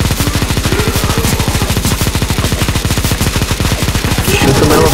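Rapid automatic gunfire in CSGO's zombie escape mod during a stage 3 boss fight in ze_necromanteion, a loud unbroken stream of fast, evenly spaced shots that swells slightly toward the end.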